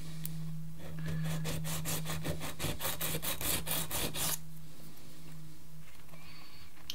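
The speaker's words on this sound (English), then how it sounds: "A little bit of light sanding." A part for a 91-inch Extreme Flight Extra NG v2 model airplane gets lightly sanded by hand in a quick run of rhythmic back-and-forth rubbing strokes, close up, before the sound stops and near-silence follows.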